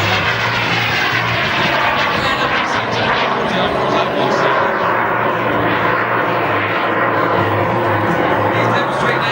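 A BD-5J microjet flies a barrel roll at an air show, its jet engine giving a loud, continuous roar throughout while an announcer talks over it.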